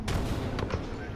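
Artillery barrage explosions in the Apex Legends video game give heavy, booming thuds that follow one another quickly, loud and rumbling, with players talking over them.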